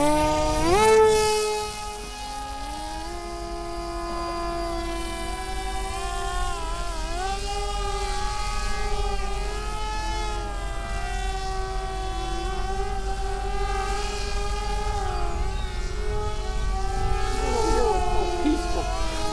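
A radio-controlled model airplane for R/C combat flying overhead, a continuous high buzzing whine that shifts in pitch as it passes, loud and steady, with people talking faintly in the background.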